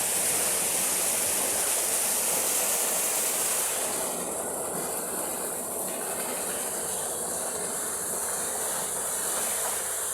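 Water rushing in, a continuous loud broadband roar that holds steady throughout, with no voices.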